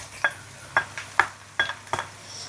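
Shallots and then garlic are stirred in hot oil for a lokio dish with dried baby shrimp. A spatula scrapes the pan in about five evenly spaced, close strokes over a faint, steady sizzle.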